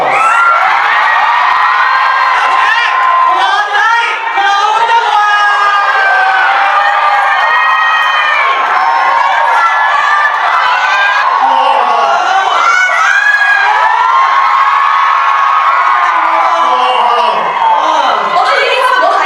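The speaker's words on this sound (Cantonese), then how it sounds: "我哋俾啲掌聲啊" A crowd at a McDonald's charity event cheers, whoops and shouts continuously and loudly, with children's high voices and screams mixed into the sustained roar.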